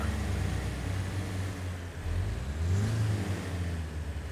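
A vehicle engine in the off-road driving game Expeditions: A MudRunner Game, climbing slopes with a steady mid-pitched drone that rises and surges as it revs, continuous and close with no talk.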